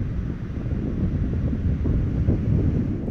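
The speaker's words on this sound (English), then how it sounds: "We do have wind almost all the time." Wind blows on an island, a steady low rumbling roar of gusts buffeting the microphone, filling the short stretch without pause.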